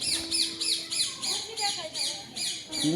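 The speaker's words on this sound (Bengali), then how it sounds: "পাখি" Birds at Darjeeling zoo give a rapid, regular series of sharp squawking calls, about nine evenly spaced bursts, fairly close and loud, while a person talks in the background.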